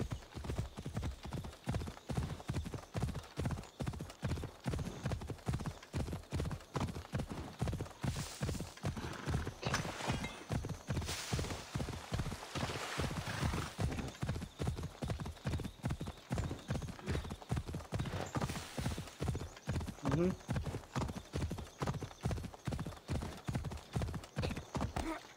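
A horse gallops in Assassin's Creed Odyssey, its rapid, even hoofbeats drumming steadily and close for the whole stretch, with a whinny partway through.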